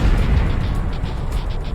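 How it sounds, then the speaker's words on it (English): Gunfire strikes on an aircraft in the combat flight game Ace Combat Zero, a dense continuous rumble of low bursts and pops over engine drone, loud and steady throughout. "I've been hit by gunfire."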